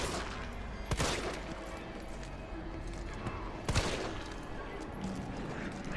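Gunfire from shooting enemies in the video game Resident Evil 3 Remake, with two sharp shots standing out against a busy, noisy game soundscape.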